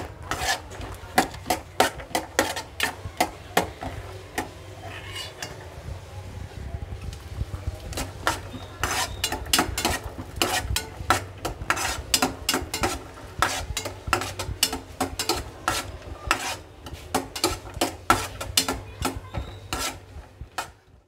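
Cashews fry in ghee in a pan as a spoon stirs them, giving rapid, repeated scraping clinks against the metal over a soft, steady sizzle, all close and continuous.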